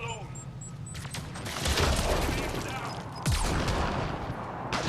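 Heavy gunfire erupts in the Mass Effect Andromeda video game, dense bursts of shots and booming impacts rattling continuously, with a fresh loud volley partway through and combat mechanisms clattering underneath.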